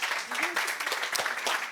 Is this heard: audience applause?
yes